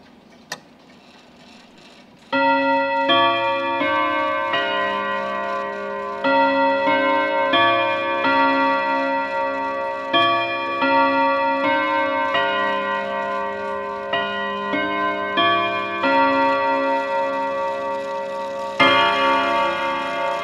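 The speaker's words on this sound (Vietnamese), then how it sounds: "em xin phép thử luôn tiếng chuông của chiếc 54 trước để các bác được thưởng" An ODO 54 French chiming clock strikes the hour, sounding a rich, melodious multi-note bell chime that rings out loud and close in repeated phrases after a short quiet start.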